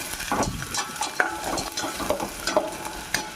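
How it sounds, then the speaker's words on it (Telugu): Sliced onions and two slit green chillies frying in oil for a Telugu-style potato fry, with a soft sizzle under repeated scrapes and clinks of a spoon stirring the pan, fairly quiet and close. "పచ్చిమిరకాయలు చీలకలు వేసానండి, 2 కాయలు. అవి కూడా మంచిగా నూనెలో మగ్గనిద్దాం."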